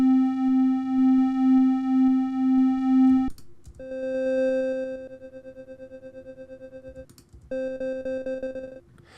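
Pico-8 synthesized instruments for a game soundtrack play sustained pure electronic tones with pulsing wobble, shifting pitch in distinct held notes separated by brief clicks and gaps, clean and alone with no voices.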